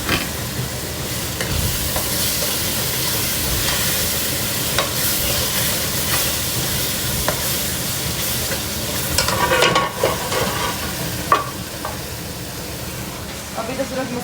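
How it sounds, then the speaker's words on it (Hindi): Masala spices frying in a karahi for chicken karahi, a steady close sizzle with stirring scrapes and spoon knocks, a voice talking over it. "अभी तो सिर्फ मसाला जो है वो भून रहा है"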